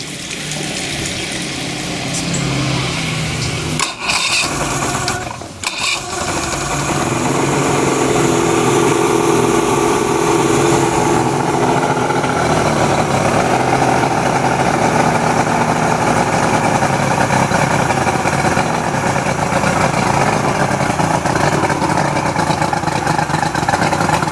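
A cheap DuraCraft boat engine sputters through a couple of start attempts, then catches and runs steadily at a loud, rough idle with a constant mechanical drone and a watery churn, with no voices.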